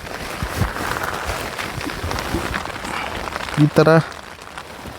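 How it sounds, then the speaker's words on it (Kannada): Rain falls steadily outside a Decathlon Quechua MH100 tent, a dense continuous patter heard from inside, with a person speaking briefly near the end. "ನೋಡು ಹೊರಗಡೆ ಮಳೆ ಫುಲ್ ಐತಿ."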